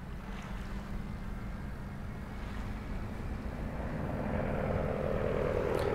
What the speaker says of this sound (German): Und da hören wir das Flugzeug wieder.